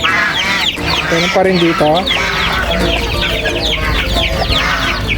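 Backyard chickens and chicks cluck and peep continuously and loudly at close range, a Brahma native mix among the flock, while a person speaks over the birds.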